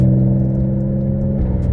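Infiniti G35 coupe with a six-speed manual and single-piece aluminum driveshaft pulls hard on a wet road, its engine drone loud and steady, with a slight pitch shift near the end as it accelerates.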